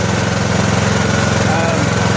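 An old, rusty lawn and garden tractor engine runs at a steady idle, a loud, close, rhythmic putter and drone that holds constant throughout.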